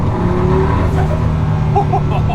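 KTM X-BOW GT-XR with the Audi RS3 2.5-litre five-cylinder engine, a loud, close, continuous engine drone with shifting tone and faint tire noise, alone without talk.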